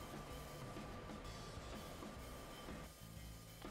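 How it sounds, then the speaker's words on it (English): Quiet, steady rumble of a Deutsche Bahn Regio regional train in the Train Sim World game, a low continuous running drone with faint mechanical hum, no talking. "So this is our Deutsche Bahn Regio, or regional train."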